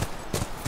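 Horse hooves clip-clop on the ground at a ranch in The Last of Us Remastered, a few quick, fairly close hoof strikes over steady background noise with no talk.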